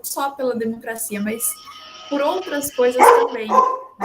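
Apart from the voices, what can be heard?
dog barking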